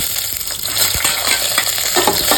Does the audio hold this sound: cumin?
yes